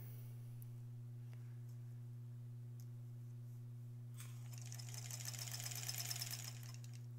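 An embroidery sewing machine stitching orange fill onto a tote bag, a rapid mechanical chatter that starts partway through over a constant low electrical hum, close and moderately loud.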